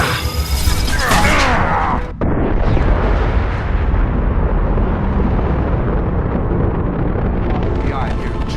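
Missiles in Mass Effect 2 blast loudly, a heavy explosion followed by a sustained roaring rumble of debris and fire after a brief dropout, filling the foreground.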